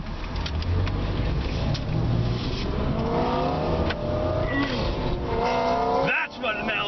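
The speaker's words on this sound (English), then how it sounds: "That's what an LS sounds like." Chevrolet LS V8 engine roaring at a drag strip, a loud sustained rev with rising pitch sweeps as it accelerates, ending in an abrupt drop, with crowd and voices mixed underneath.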